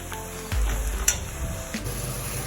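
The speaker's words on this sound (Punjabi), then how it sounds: "ਸਾਰੇ ਮਸਾਲੇ ਮੈਂ ਪਾਤੇ ਟਮਾਟਰ ਵੀ ਪਾਤੇ ਹੁਣ ਮੈਂ ਮਿਕਸ ਕਰ ਰਹੀ ਹਾਂ ਇਹਨੂੰ" Tomatoes and spices frying in ghee in a pan for a dahi arbi curry, stirred with a few scraping spoon strokes over a soft, steady sizzle, close and fairly quiet, with no talking.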